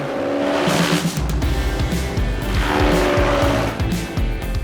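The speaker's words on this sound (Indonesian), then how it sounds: "rumput-rumput perlu dicacah terlebih dulu pakai mesin ini" Grass-chopping machine shredding grass for animal feed runs with a loud, steady mechanical drone, broken by surging bursts of harsh shredding noise, close by and with no talking.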